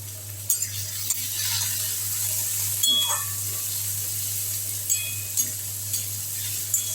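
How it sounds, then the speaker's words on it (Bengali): Onion fries in a pan with chopped tomato and green chilli for a periwinkle snail curry, giving a steady loud sizzle with a few sharp stirring clicks and a low hum underneath. "পেঁয়াজটা একটু ভাজা হবে"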